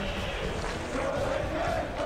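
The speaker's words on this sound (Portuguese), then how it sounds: "A torcida ficou louca" Stadium crowd in the PES 2019 football game on PS2 roaring after a shot hits the crossbar, a dense sustained cheer with chanting voices, loud and continuous throughout.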